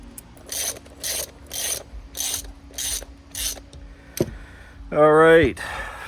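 A ratchet wrench tightens bolts while parts for air ride suspension go onto a 1982 Honda Civic Wagon. The clicking comes in about six evenly spaced bursts close by, followed by a metallic clank and a rising, squeaky turning sound.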